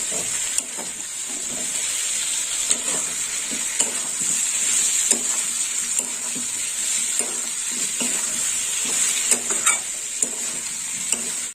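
Fried potatoes are stir-fried into a papaya and chana dal curry, with a steady sizzle and hiss under regular scraping strokes of a spatula against the pan.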